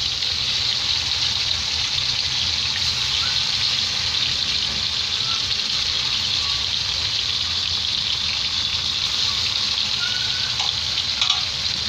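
Pieces of rohu fish fry in oil in a kadhai with a loud, continuous close-up hiss and bubbling sizzle that stays steady throughout, with no voices.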